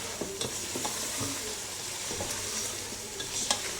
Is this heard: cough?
no